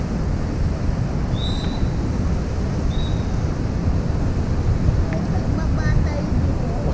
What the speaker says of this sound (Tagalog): Mahangin pa dito ah.